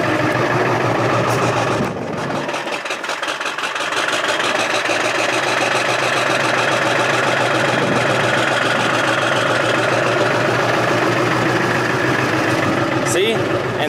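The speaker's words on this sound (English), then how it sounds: "When it's warm outside, the truck will start." A Ford F250 with the 7.3 diesel engine starts up outdoors and settles into a steady, loud, rattling idle that drones on close by for the rest of the stretch.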